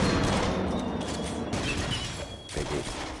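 Dense, rapid gunfire bursts from the VR shooter game Rush of Blood, loud and crowded with overlapping booms and mechanical clatter.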